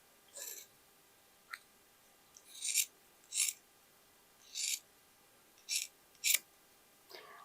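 Scissors cutting leather for a shoulder bag give about seven crisp, separate snips at uneven intervals, close by and alone in a quiet room.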